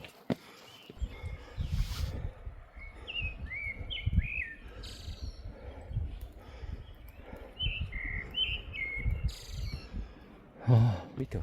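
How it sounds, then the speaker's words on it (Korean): Birds sing and call clearly but unseen along a foggy, rain-damp mountain trail on Mangsan, Geoje, with repeated short whistled phrases over quiet rustling, footsteps and faint background noise, ending in a brief louder bump. "새 소리가, 새 울음소리가 맑고 깨끗하게 들려옵니다."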